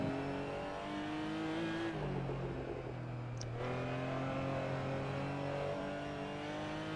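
Rear-engine Porsche GT4 Clubsport in a sim racing game, its engine droning steadily with clear rising and falling harmonic tones as it revs through the gears, close and continuous with a brief dip mid-run.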